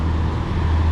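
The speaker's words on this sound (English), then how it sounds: "we are past that truck that was making all that noise" A large truck idles or rumbles close by on a city street, a steady loud low drone with traffic hum, no pauses or voices.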